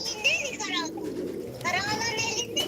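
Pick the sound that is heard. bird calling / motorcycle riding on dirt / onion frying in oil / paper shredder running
bird calling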